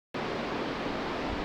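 Ocean surf on the Oregon coast pours out as a continuous, dense roar of breaking water, close and steady from start to finish, with no voices.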